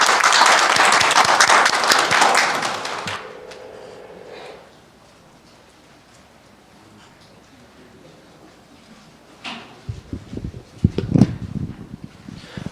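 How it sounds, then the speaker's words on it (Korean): Hearty applause from breakfast-meeting attendees welcoming the head of the Korea Photonics Technology Institute's AI Energy Research Center: a dense burst of clapping for about three seconds that fades into quiet, then scattered handling and shuffling noises. "김용현 센터장님을 큰 박수로 힘찬 박수로 환영해 주시기 바랍니다."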